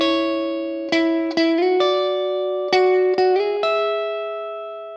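An electric guitar plays a soul lick in sixths in the Stax Records style, with a handful of plucked double-stop notes sliding between positions and ringing out, near and alone.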